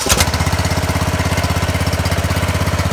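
John Deere Z225 lawn tractor engine idling steadily up close, a loud even low thrum with a fast regular pulse after a brief rise at the start, no voices.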